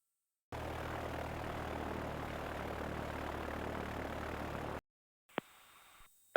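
Steady, fairly loud drone of a small propeller airplane engine idling after a full-stop landing during emergency procedure practice, running continuously for several seconds before cutting off, followed by a quiet cockpit with a brief click.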